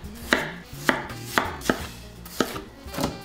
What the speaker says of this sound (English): Cut it into forkable pieces and put it in an airtight container